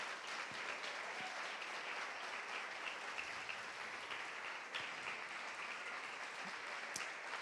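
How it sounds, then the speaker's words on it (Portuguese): A church congregation claps for its honored leaders standing before them, a steady, dense wash of applause filling the room without pause and with no talking over it. "Aplauda aí, por favor."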